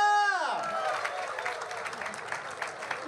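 Audience applause for the winners of a traditional-costume contest at an Indonesian Independence Day celebration in Nusantara, rising out of a fading musical chord into steady clapping from a crowd for about three seconds.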